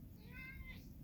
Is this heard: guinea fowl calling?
no